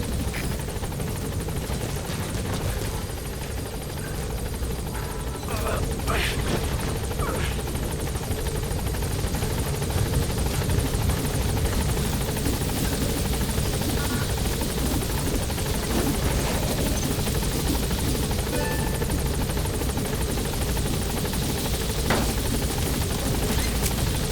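A helicopter's rotor chops steadily and loudly in Metal Gear Solid V, close overhead and continuous, with a whining engine underneath the throb.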